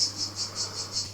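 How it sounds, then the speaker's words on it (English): Honey bees in a presentation beehive give off a steady high buzz, pulsing in regular even waves over a low constant hum, with no talk. "It's full of bees."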